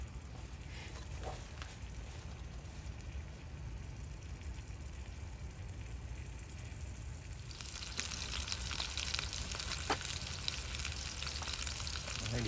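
Ribeye steaks sizzle steadily in a hot cast iron pan, a continuous dense frying hiss that grows a little louder and brighter partway through, close up with no talking.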